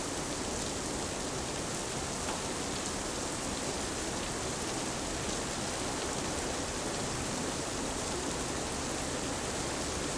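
Heavy rain pours outside during severe thunderstorms, a dense, constant hiss of downpour on surfaces that holds steady throughout with no talking.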